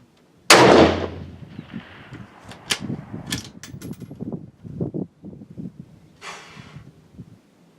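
A rifle test shot on a range while a Lab Radar is set up, one sharp loud crack with a fading echo, followed by faint scattered clicks and handling noises.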